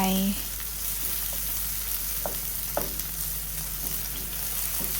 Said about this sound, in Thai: ก็ผัดผัดให้เขาสุกนะคะ ผัดไป